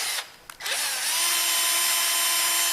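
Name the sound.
power drill boring through brass shower head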